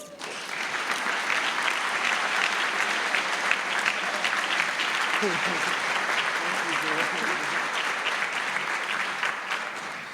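A graduation convocation audience applauds steadily to welcome speaker Norman Weinberg, dense, even clapping from a large crowd that holds strong for about ten seconds before tapering slightly at the end.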